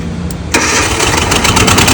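A motor cranks and catches abruptly about halfway through, then settles into a steady, loud, buzzing run close by, with no voices over it.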